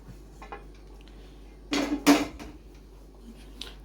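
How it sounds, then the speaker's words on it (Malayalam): Chopped raw papaya pieces go into a bowl in a home kitchen, making two quick clattering knocks close by against an otherwise quiet background. "പാത്രം എടുക്കുക, അതിൻ്റെ അകത്തേക്ക് നമ്മൾ അരിഞ്ഞു വെച്ചിരിക്കുന്ന കപ്പളങ്ങ ഇടുക"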